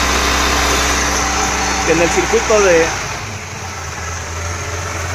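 A pickup truck engine with a Holley carburetor idling steadily and close, briefly revving up before settling back to a lower, even idle while someone talks over it.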